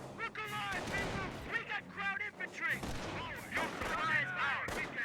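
Rifle and machine-gun volleys crackle continuously in the World War II strategy game Company of Heroes, Panzer Grenadiers firing on a rifle squad, dense and steady under a commentator's voice.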